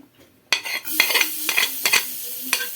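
Garlic tossed into hot oil in a pan, a sudden burst of sizzling followed by repeated scraping and stirring clatter of a utensil against the pan, close and fairly loud.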